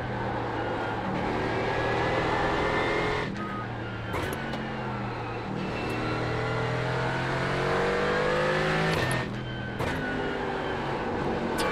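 A GT4 race car circles Mid-Ohio in iRacing, its engine droning loud and steady the whole way through. It rises and falls with the throttle, and a few sharp gear shifts break in as it climbs and dips over the hills.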